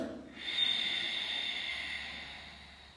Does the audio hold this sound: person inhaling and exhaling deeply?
yes